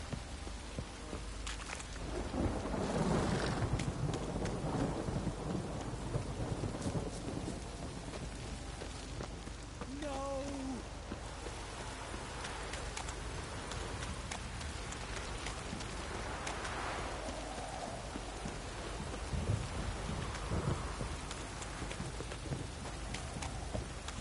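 Heavy rain pours steadily in a thunderstorm in The Witcher 3, with low rolls of thunder rumbling through the downpour and a brief muttered voice partway through.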